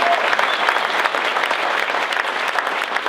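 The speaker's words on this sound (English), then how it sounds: "A round of applause for Cindy." An audience at the Horace Mann Spirit of Service Awards applauds for Cindy, continuous, dense clapping at an even level throughout with no speech.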